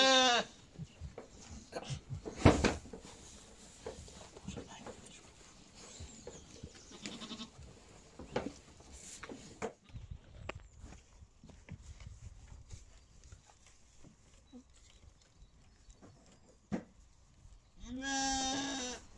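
Sheep bleat at an animal sanctuary during feeding, with a few short bleats spread through quiet farm ambience, moderately close, and one louder cry near the end.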